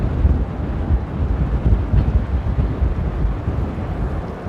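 Strong, steady wind buffets the microphone at Amsterdam Airport, a loud, rumbling low roar with gusty fluctuations and no voices.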